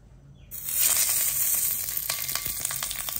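Snakeskin gourami fish hitting hot oil in a very hot pan, a sudden loud hiss that settles into a steady close sizzle with small crackles, no voices.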